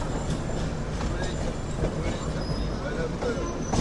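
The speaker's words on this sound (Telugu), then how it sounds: "అది వచ్చేసి మనకు కర్ణాటక ఎక్స్ప్రెస్ ట్రైన్." Karnataka Express, bound from New Delhi to KSR Bengaluru, running on the parallel track beside a moving train, a steady dense rolling rumble with faint wheel clatter heard from inside the carriage, with some voice in the background.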